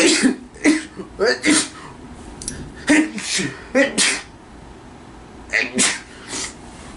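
A run of short, sharp sneezes in quick succession, close and fairly loud, with a pause before a final pair of bursts.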